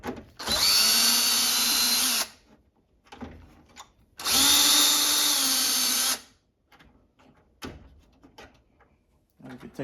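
A power driver fitted with a 1/4-inch socket whines in two sustained runs of about two seconds each as it unscrews a ReadyRefresh water dispenser, with light clicks and handling noises between and after the runs.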